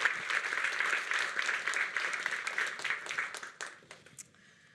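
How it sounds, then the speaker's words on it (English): Sustained applause from a large audience honoring engineers at a web developer demo day held at Google headquarters. Dense clapping fills most of the stretch, then thins into a few scattered claps and fades near the end. "can we get a round of applause for all of the engineers of the C4Q Brain Trust?"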